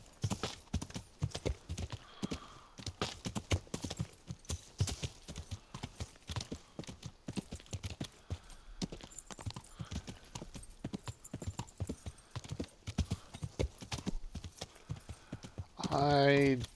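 Horse hooves clip-clop steadily along a road in the medieval video game Kingdom Come: Deliverance, a brisk rhythmic trot throughout, ending with a loud whinny from the horse.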